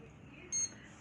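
A kitchen oven timer gives a single short, high-pitched electronic beep as it is set, brief and fairly clear over a quiet room background.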